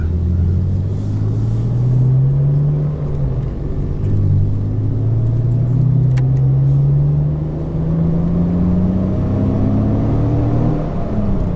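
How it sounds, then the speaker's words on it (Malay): A race car with a straight-pipe exhaust in a sim racing video game revs through repeated rising pulls and brief shifts, a loud deep buzzing drone with no talk over it. "Nak belanja bunyi kereta ni kelakar. Kereta ni terlalu senyap."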